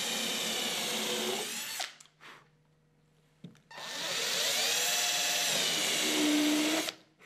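Power drill fitted with a countersink bit pre-drills a hole in a board for a bathroom cabinet, two loud whining bursts of a few seconds each, separated by a quiet pause with a small knock.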